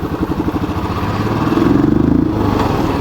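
A 2021 Royal Enfield Classic 350 BS6 motorcycle pulls away in first gear, its single-cylinder engine thumping in a steady, close rhythm that builds slightly in loudness midway, with no talk over it.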